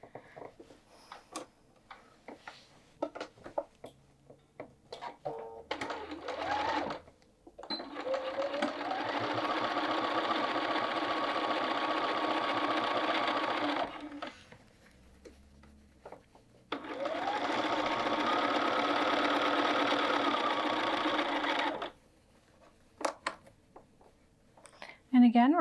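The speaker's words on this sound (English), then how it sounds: "And again, we're going to sew to the end and back tack." A sewing machine stitches a hood seam on a quilted jacket in two long steady runs of fast ticking rattle, separated by quiet pauses with light handling clicks.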